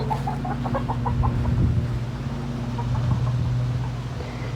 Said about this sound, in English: There's some free-ranging chickens, as you can see right there.